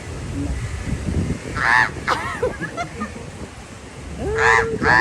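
A person imitates crow caws to call crows to a Karkidaka Vavu offering at home. Two short bursts of harsh, nasal cawing stand out over faint background noise, spaced a few seconds apart.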